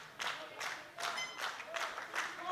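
Crowd at a world powerlifting championship applauding a lifter on his squat attempt, a steady wash of clapping in irregular swells with a few voices rising through it.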